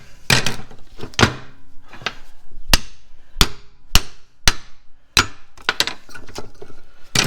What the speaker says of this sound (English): Plus you get to use a hammer and a screwdriver.